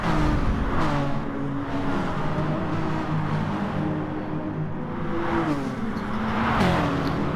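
Touring cars in a racing video game roar through a chicane on the Dragon Trail circuit, engines droning steadily with pitch dips and rises as they brake and accelerate, close and continuous.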